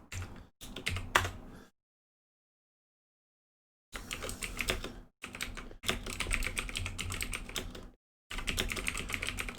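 Bursts of rapid typing on a computer keyboard while coding, close and steady, broken by a couple of silent pauses, with no voices.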